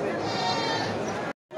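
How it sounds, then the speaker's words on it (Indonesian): Local sheep bleat at a livestock market in Purwonegoro, one loud, harsh, wavering call close by that fills most of the moment before cutting off abruptly. "Ini domba lokal."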